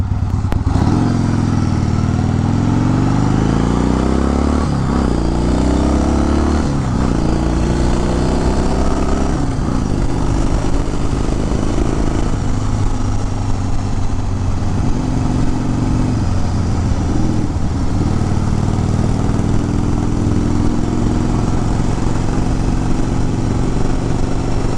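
A 1974 Harley-Davidson Sportster Ironhead XLCH runs close up, its loud, uneven engine rumble rising and falling as the throttle is blipped and then settling into a clattery idle, with no voices.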